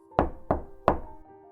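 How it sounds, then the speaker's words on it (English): Three knocks on a door land close by at an even, deliberate pace, each with a sharp attack and a short woody decay, followed by quiet. "a knock on her door changed everything"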